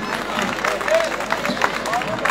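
A crowd applauds for the mayor at the opening of Silivri Roman Night, steady dense clapping throughout while a voice speaks over it.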